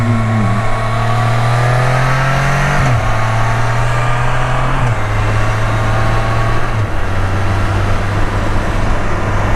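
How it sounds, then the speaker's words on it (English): A car engine drones steadily under loud road noise, stepping down in pitch several times as gears change while driving through Ohio countryside. "Downshift quite a bit."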